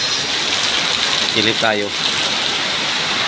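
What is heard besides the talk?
heavy rain with strong wind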